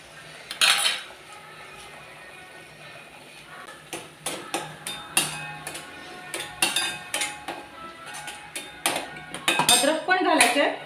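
Coriander paste going into a pan for a green aloo palak rassa bhaji, with sharp metallic clinks and taps of a utensil on the pan coming in irregular bursts, close and fairly loud, over a quiet background.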